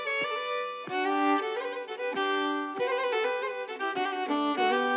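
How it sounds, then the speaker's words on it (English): A bowed violin plays a melody of sustained notes, each one starting with a clear attack, solo and close with no accompaniment. "Violin."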